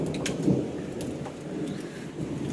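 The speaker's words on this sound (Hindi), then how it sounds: "बादल गरजने की आवाज़ भी आ रही होगी" Thunder rumbles low and heavy over a steady hiss of falling rain, with the deep roll swelling early then fading into the downpour.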